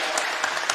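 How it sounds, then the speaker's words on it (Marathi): Audience clapping at a Ganesh Sankashti Chaturthi devotional gathering, a brief steady burst of hand claps with a few sharper peaks, no talk over it. "सर्वांनी टाळ्या वाजवा"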